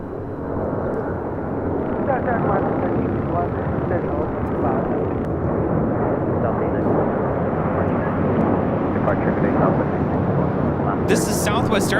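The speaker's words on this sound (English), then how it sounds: "That is Western Global Airlines Flight 5272. It's an MD-11, 25 years of age." A Western Global Airlines MD-11 freighter, 25 years old, thunders at LAX with a loud, continuous low-heavy jet roar that stays close and sustained, with a voice speaking over part of it.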